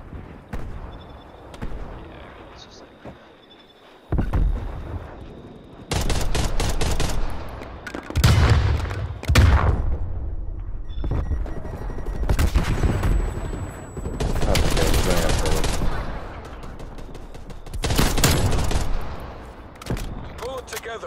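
Rapid automatic gunfire from AK-74u and Type 63 rifles in a Call of Duty Cold War multiplayer match comes in loud, sustained bursts separated by short quieter gaps, with a player talking between volleys.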